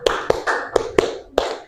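A classroom of students clapping a rhythmic counted pattern, sharp hand claps in an uneven sequence of about six strikes, close and clear with no talking.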